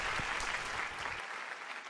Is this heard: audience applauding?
yes